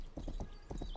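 Horse hooves in the video game Rustler clip-clop in a quick rhythmic run of dull thuds over a continuous background hum, close and moderately loud, with no talking.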